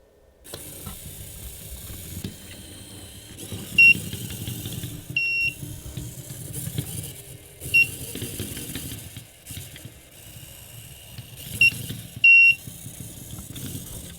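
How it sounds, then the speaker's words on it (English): Small Zoomie robot car emits short high electronic beeps each time it detects a magnet, several single and double chirps spread over a quiet background of faint motor whir and movement. "you'll hear him beeping as he sees each magnet"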